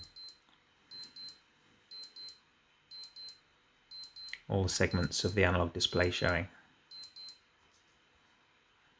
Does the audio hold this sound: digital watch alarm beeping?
yes